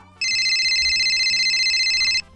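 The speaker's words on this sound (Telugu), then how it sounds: "ఇప్పుడు ఫోన్." A phone ringtone sounds loud and continuous for about two seconds, with a low rhythmic backing pattern beneath it, in a village home during a Telugu comedy scene about tuition.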